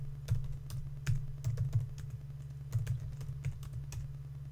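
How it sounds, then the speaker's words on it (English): Keystrokes tapped out on a computer keyboard while a command is entered on a Mac during setup of an Intel Edison with Node-RED. The clicks come in quick irregular bursts, close and moderately loud, with no talk. "I'm now going to type PM2 start."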